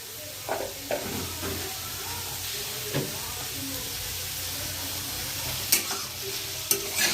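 Fenugreek greens stir-fried with a little sugar over a high gas flame, a continuous close sizzle with occasional scrapes and clacks of a spatula stirring the pan.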